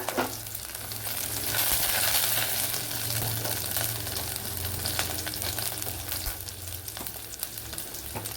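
Garlic and ginger sizzle steadily in a hot pan for an eggplant curry, a dense continuous frying crackle close up with a low background hum and occasional clinks, no talking.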